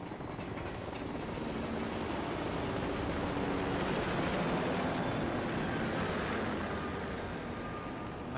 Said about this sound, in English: Chopper's landing.